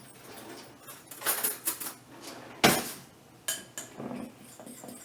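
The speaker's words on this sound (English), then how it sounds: "mix it up. Get a nice mix in there." Food seasoned with Old Bay is mixed in a dish, giving a run of close scraping and clinking utensil strokes of uneven rhythm, with one sharper knock midway and no talking.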